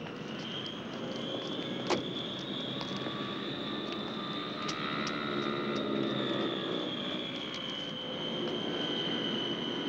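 An airplane engine drones steadily and evenly for the whole stretch, a moderate and continuous hum with no talking.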